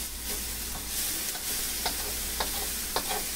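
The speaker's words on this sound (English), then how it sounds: "So I'm just going to mix it all together." Tofu stir fry seasoned with paprika sizzling in a pan as spices are stirred in, a continuous close hiss broken by a few light scraping clicks of the utensil, with no one speaking.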